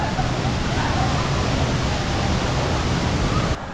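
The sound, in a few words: waterfall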